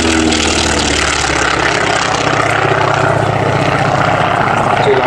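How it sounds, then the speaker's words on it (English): Vintage aircraft flying overhead at an air show, a loud continuous propeller engine drone that holds steady throughout with no speech. "Nice top view, and a waggle of the wings from Martin"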